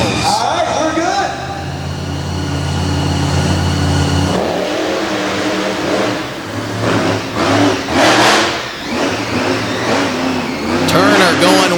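Race car engines revving and accelerating at a dirt-track motorsports event, loud and sustained with rising and falling pitch, while an announcer talks throughout.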